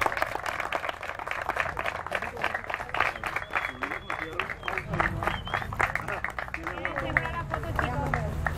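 Applause and clapping from a group of people on a school outing in the Plaza de Armas, a steady crowd sound with chatter and voices mixed in throughout.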